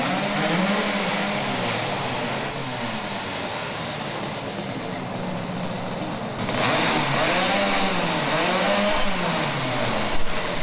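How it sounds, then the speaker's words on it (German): A Vespa two-stroke scooter engine warms up with a steady, loud buzzing drone whose pitch rises and falls as it revs, growing louder about two-thirds of the way through. "die Maschine wird warm fahren"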